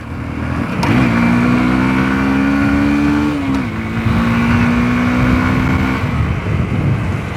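A 2024 Honda Unicorn motorcycle is ridden hard, its engine revving up loudly and holding a strong buzzing drone with a brief gear-change dip midway, heard close without talk.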